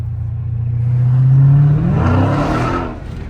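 A Dodge Challenger Scat Pack roars hard under acceleration, its engine note rising to a loud peak as the wheels spin, then fading slightly, heard close from inside the cabin.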